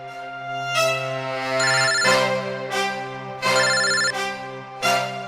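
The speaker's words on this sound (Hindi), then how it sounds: "ये आपका फोन बज रहा है।" A phone ringtone plays a repeating melodic tune, loud and close, with bright chiming notes recurring every second or so and no talking.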